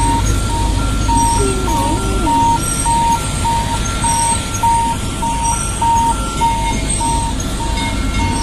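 The Sato-sato tourist road train at Ancol sounds its unusual horn, a repeating melodic electronic tune chiming in steady pulses over rumbling engine noise, with people talking nearby.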